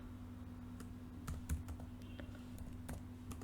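A short run of quiet, close keystrokes on a computer keyboard, irregular clicks clustered in the middle over a low steady hum, with no talking.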